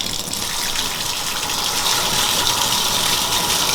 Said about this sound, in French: il est temps de prendre la douche